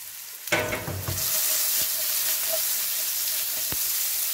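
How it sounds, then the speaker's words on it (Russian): Zucchini pieces hit hot sesame oil with a sudden loud burst of crackling, which settles into a steady close sizzle with a few faint clinks of a utensil. "Так, добавляю немного кунжутного масла и обжариваю цукини."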